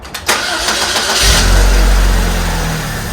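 A Saab 9-3 engine cranks and catches, then settles into a loud, steady running rumble close by, with no talking.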